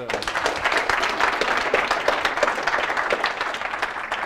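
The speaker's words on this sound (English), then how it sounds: "round of applause for Robert." Conference audience clapping for a speaker after a tech talk on stream processing, a steady, moderately loud round of many hands lasting a few seconds without pause.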